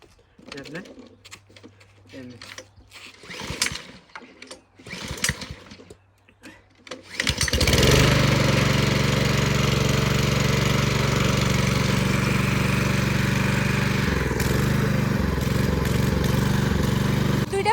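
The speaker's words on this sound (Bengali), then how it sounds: "এদিকে সব বাড়িতে এমন একটা করে মেশিন থাকে বাড়ির আগাছা পরিষ্কার করার লাগে" A gas-powered weed trimmer is pulled to start, with a few rattling cranks under talk, then the small engine catches and drones loudly and steadily at close range, with a brief change in revs near the end.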